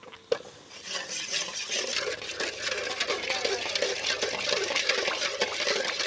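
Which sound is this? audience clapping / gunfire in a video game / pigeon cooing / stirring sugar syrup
stirring sugar syrup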